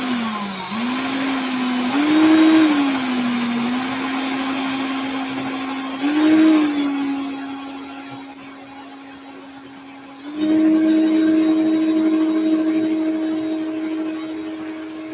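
A small electric drill running in reverse while decoring a vape coil, a loud steady motor whine that rises and falls in pitch with load in a few surges, then steps up in level near the end.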